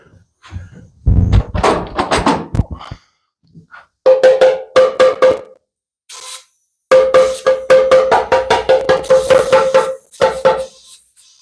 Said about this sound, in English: Need my little hammer.